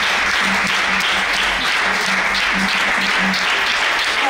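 Church congregation applauding steadily throughout, dense continuous clapping filling the room with some voices mixed in, and a faint rhythmic low thump beneath.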